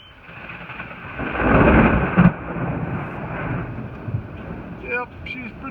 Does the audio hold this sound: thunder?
yes